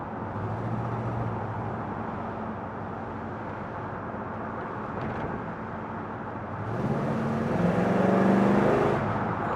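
A 1969 Pontiac Firebird with a 400 V8 engine accelerates from inside the cabin, its steady drone climbing to a louder, higher-pitched pull near the end, with no talk.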